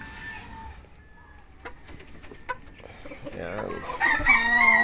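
Backyard chickens clucking, with a rooster crowing near the end and a pullet with blue legs among the flock, heard close and fairly loud, with a brief word spoken early.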